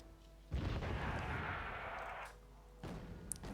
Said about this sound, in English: Mortar fire going in the left structures there.